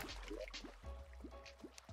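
Water flowing and dripping in the video game Terraria, heard as a quiet series of soft liquid drips and gurgles spaced through the moment, alone without speech.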